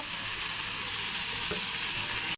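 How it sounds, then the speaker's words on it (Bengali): Steamed potatoes fry in hot oil in a wok for an egg curry, giving a steady, close, even sizzle that runs unbroken with no voices. "শুধু এই ভাপানো আলুগুলো ভেজে নেব"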